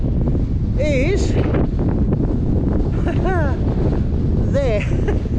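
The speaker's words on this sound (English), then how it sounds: "it's very windy now" Strong wind buffets the microphone on the exposed summit of Titterstone Clee Hill, a loud continuous roar throughout, while someone talks over it in short bursts.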